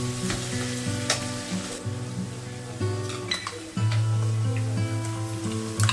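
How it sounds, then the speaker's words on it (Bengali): Chopped onions sizzle steadily in rendered mutton fat with a little salt while being stirred, a close, continuous fry for a mutton curry, with no talking. "পেঁয়াজ ভাজা হয়ে গেছে, আমি মশলাটা দিয়ে দিচ্ছি"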